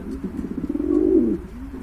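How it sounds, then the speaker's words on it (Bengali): Several pigeons coo close by, a low throaty burble that swells into a sustained rolling coo, then trails off into softer murmurs. "এই যে দেখেন কবুতরগুলো কিন্তু খুবই অ্যাক্টিভ আর ফ্রেশ কবুতর"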